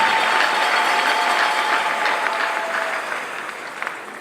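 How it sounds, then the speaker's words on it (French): A church congregation applauds to acclaim the Lord, sending up a loud, dense burst of clapping right away that slowly thins and fades over a few seconds. "Est-ce qu'on peut acclamer le Seigneur?"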